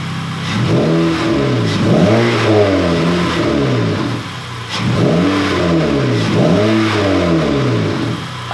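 A 9th-generation Honda Accord engine with a Ktuner tune revs up and falls back twice in succession, each pull rising and dropping in pitch, loud and close with no voices.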